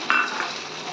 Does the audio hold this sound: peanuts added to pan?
yes